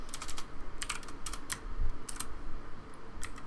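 Rapid typing on a computer keyboard while entering a Roblox Studio script, close and crisp, with bursts of clustered keystrokes separated by brief pauses.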